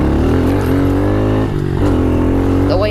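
Pitbike engine revving hard in third gear, a loud, buzzing high-pitched whine that climbs, dips briefly, then climbs again, close up and continuous.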